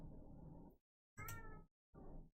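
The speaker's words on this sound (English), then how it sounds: "I have a cat. Meowing." A pet cat meows indoors three times, first a long drawn-out call, then two shorter ones with clear gaps of silence between them, close and distinct with no talk.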